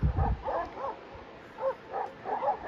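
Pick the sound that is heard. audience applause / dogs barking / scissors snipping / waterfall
dogs barking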